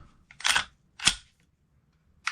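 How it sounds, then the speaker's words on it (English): Two sharp mechanical clicks from a Glock pistol trigger pull about half a second apart, followed by a lighter click near the end, crisp and close with silence between. "Let's hear that trigger pull."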